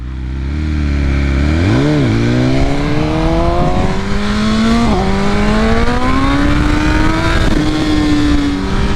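Tuned BMW S1000RR sport bike fitted with a flashed ECU and a 1-inch kit, its engine revving up loudly and steadily, pitch climbing through a gear change with no talk over it.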